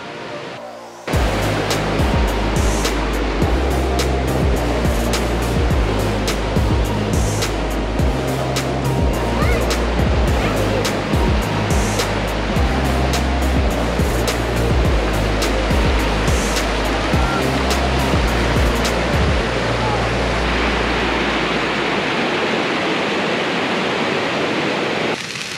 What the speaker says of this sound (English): And there's a creek down there.